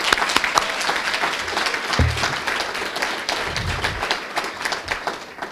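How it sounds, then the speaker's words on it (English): Steady, loud applause from a school board meeting audience honoring a championship team, dense clapping sustained for several seconds with a few heavier thumps, no talking over it. "Let's give them a round of applause just for that right there."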